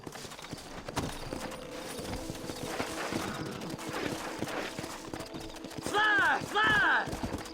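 Horses' hooves clip-clop in the Red Dead Redemption game, a steady trotting patter under game voices and ambient noise, with a loud neigh-like burst near the end.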